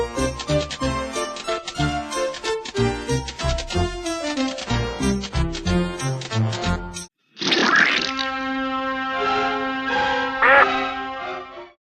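A Looney Tunes cartoon duck quacks in a rapid, loud, rhythmic string of squawking calls, followed by a longer, rasping drawn-out vocalization.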